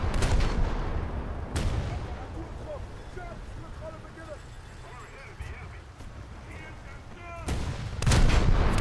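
Naval gunfire from an Albatros fast attack craft in War Thunder's coastal battles: loud cannon blasts at the start and in a close pair near the end, over a droning boat engine and water, with someone talking throughout.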